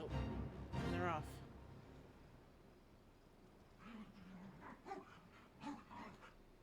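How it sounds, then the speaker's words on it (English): Dogs give a few soft barks and whimpers in the background during a casual gaming stream, faint and intermittent after a louder burst of talk at the start. "Distracted by the dogs."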